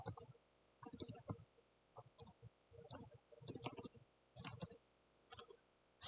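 Computer mouse clicks and a few key taps at a desk while working in Grasshopper 3D, coming in short, irregular clustered bursts with quiet gaps between, close and soft.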